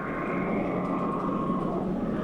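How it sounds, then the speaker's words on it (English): Aircraft passing overhead during a wartime bombing and strafing run in Iraq, a steady loud broadband roar with a droning engine tone, continuous with no speech. "Is that aircraft over you, Walter?"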